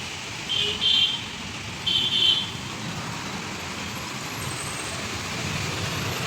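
Vehicles including autorickshaws and two-wheelers drive through a flooded road at Saptagiri Circle in Anantapur during heavy rain, a steady broadband wash of rain and traffic with a couple of brief higher buzzing passes early on.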